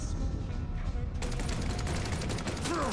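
Gunfire in the video game Mafia 3, a rapid burst of loud overlapping shots that crackles on steadily after a brief lead-in.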